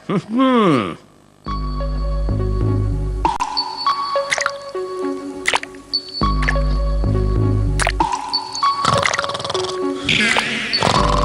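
Water drips into a bowl in a Stone Age cartoon scene, with loud, resonant plinking drops repeating at a slow, regular pace and a brief squishy sound near the start.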